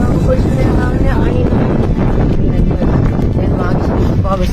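Strong typhoon wind roars steadily and loudly across a village after a storm, buffeting the microphone with broad, continuous rushing noise and occasional gust surges.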